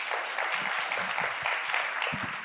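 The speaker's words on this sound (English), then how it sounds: "Please give them a round of applause as they go up." Moderate, even applause from a plenary conference audience as session chairs walk up, a continuous crackle of many hands clapping at some distance.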